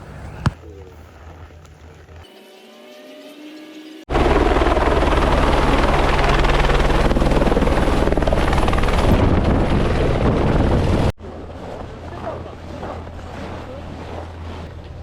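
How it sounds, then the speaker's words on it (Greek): A helicopter carrying snowboarders in the French Alps at Les Deux Alpes roars loudly and steadily with heavy rotor and engine noise for several seconds, then cuts to quieter wind and distant engine sound. "Το ελικόπτερο παίρνει 5 άτομα μέσα"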